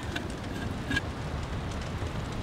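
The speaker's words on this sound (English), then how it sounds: "It is windy out there." Strong storm wind buffets a hot tent pitched outdoors, a steady low rushing roar with a few faint high ticks, heard from inside without any talking.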